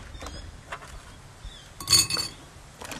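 Tea cake batter with banana and cinnamon is mixed in a bowl, giving a few scattered light clinks and taps, with one brighter glassy clink near the end.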